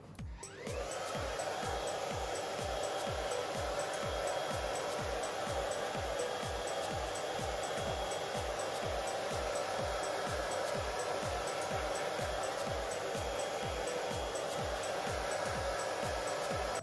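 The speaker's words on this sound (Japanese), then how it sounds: "次に内側の根元付近を乾かしていきます。" A hair dryer blows close by while drying the roots on the inner layers of hair, a loud, steady rushing roar with a quick rhythmic low pulsing throughout and no talking.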